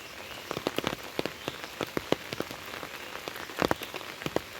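Steady rain falling, with many scattered drops pattering on a nearby surface over a continuous hiss, moderately quiet and without voices.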